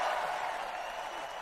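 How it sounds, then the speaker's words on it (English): Crowd at a political convention applauding and cheering, a dense, steady wash of clapping heard from a distance and fairly faint. "Donald Trump standing up and clapping, crowd on their feet, very fired up"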